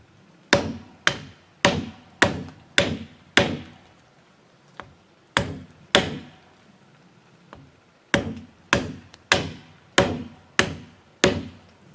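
Sharp, hollow chopping blows on a wooden stake as its end is sharpened in the woods, struck in quick bursts of four to five hits separated by short pauses, close and clear with no talk.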